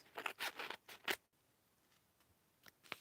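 Scissors cut open a package in a few quick snips and rustles, close and fairly faint, followed by near silence with small scratches.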